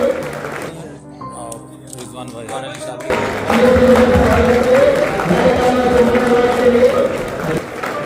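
Applause from a crowd at an outdoor pigeon-flying prize distribution in Patna, Bihar, swelling in loudly partway through and continuing as sustained clapping, preceded by talk and voices.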